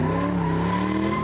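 Tires of a 1966 Cobra squeal in a sustained, loud screech while the car spins donuts, the engine droning steadily underneath with no talk.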